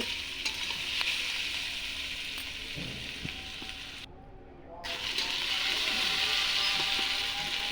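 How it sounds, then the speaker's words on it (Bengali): Onions frying in a pan, a constant close sizzle with intermittent stirring scrapes, briefly dropping and dipping in the middle before the hiss swells back. "ঝাল পেঁয়াজটা অনেকটা ভাজা হয়ে গেছে"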